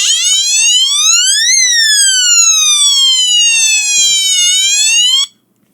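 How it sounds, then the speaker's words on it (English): A water leak sensor alarm going off after a drop of water touches it: a loud, piercing electronic tone that sweeps up and down in pitch for about five seconds, then cuts off abruptly. "I'm going to drop a drop of water, and watch the alarm, how loud it is"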